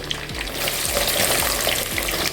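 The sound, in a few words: onions and garlic frying in oil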